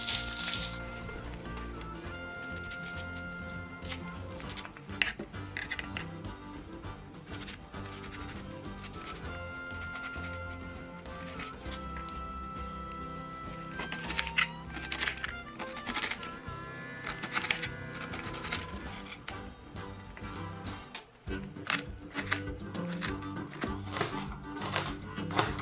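A chef's knife chops a cold, refrigerated onion on a cutting board, with rapid, steady, close-up knocks going on continuously for about half a minute and no talking over them.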